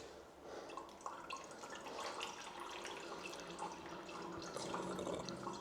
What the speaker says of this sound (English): Still some coolant in it, I'm pretty sure, so let's get rid of this just to see.